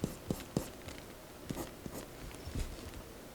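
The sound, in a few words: pencil drawing a skull on paper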